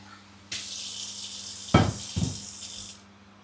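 Water gushes from a tap for about two and a half seconds in a steady close rush, with a couple of heavier splashes midway, then cuts off.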